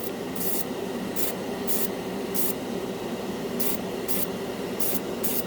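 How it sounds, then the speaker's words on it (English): A cheap Harbor Freight airbrush spraying metallic enamel paint for scale model work, a steady soft hiss with short louder bursts each time the trigger is pulled, close up, with no voice. "let's see if it sprays this metal stuff good"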